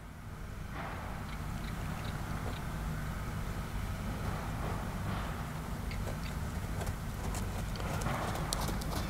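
A young horse's hooves loping around a round pen, giving a steady rhythmic clip-clop of footfalls over a constant low rumbling background.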